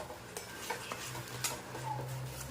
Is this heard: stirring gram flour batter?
yes